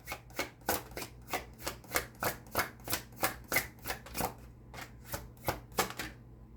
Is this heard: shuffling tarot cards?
yes